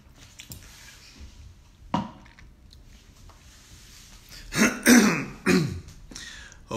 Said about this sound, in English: this cough, excuse me. Not even a cough, it's a tickle